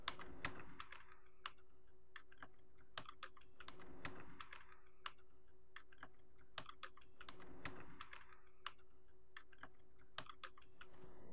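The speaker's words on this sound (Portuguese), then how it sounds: "vou digitar" Numbers being typed on a computer keyboard into a LibreOffice Calc spreadsheet, quick bursts of close, crisp key clicks separated by brief pauses, with no talking.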